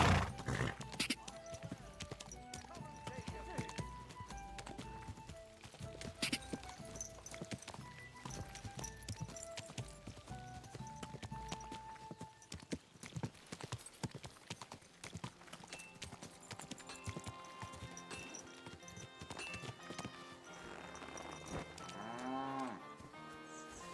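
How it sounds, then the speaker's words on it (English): Horses clip-clop and whinny in a medieval village in the video game Kingdom Come: Deliverance II, joined by cattle lowing and farm ambience over background music, with brief talk at points. "That horse sounds weird."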